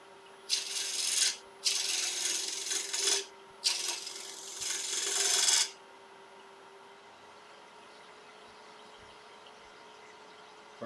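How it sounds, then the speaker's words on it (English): Wood being turned on a lathe with a 3/8 spindle gouge, shaping a small snowman and Christmas tree, heard as three bursts of hissing, rasping cuts over the first half, then only a quiet motor hum. "So I'm going to use about 3/8 spindle gouge."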